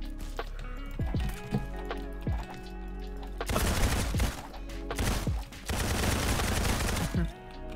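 Rocket launcher fired repeatedly in the Roblox game Criminality, heard as a rapid series of loud blasts and bursts with short gaps between them and no talking over them.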